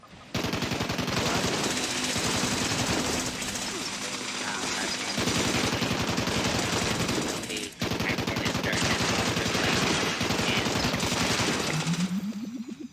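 Rapid bursts of automatic gunfire in the video game Fallout 76, shooting at an Assaultron robot, rattle almost nonstop, loud and close, with a short pause midway and a rising electronic whine at the end.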